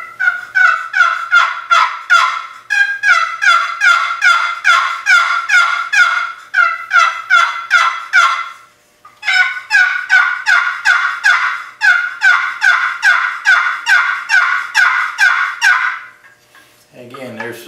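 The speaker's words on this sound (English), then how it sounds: "I'm going to show the difference in the sound of the mahogany call versus the butternut paddle call. I'm going to do the plain yip." Plain yip turkey calls made on wooden paddle calls of mahogany and butternut, a loud and close run of rapid, evenly spaced yelping notes in several bursts, with short pauses between them and no talking.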